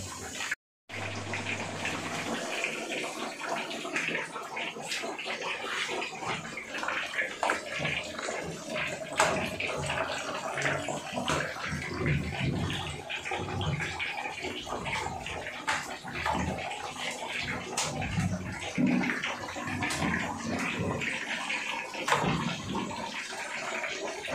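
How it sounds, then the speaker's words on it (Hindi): Fish frying dhaba-style in hot oil in a pan, giving a continuous loud hiss with crackles and pops that starts after a brief silent gap and carries on unbroken. "बहुत ज़बरदस्त, बहुत ज़बरदस्त ये फ्राई हो रही है"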